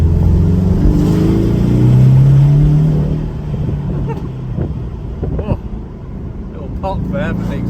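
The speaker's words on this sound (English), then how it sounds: "Pop there for the exhaust." A Porsche 718 Cayman with a 2-litre turbo engine accelerating hard, a loud rising engine note that eases off, followed by a few sharp exhaust pops and crackles near the end.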